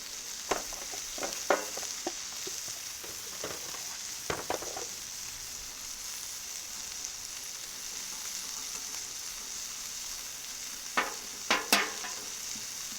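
Rice fries on a Cuisinart 360 XL griddle with a steady sizzle, punctuated by sharp metallic spatula scrapes and clacks in clusters at the start and again near the end.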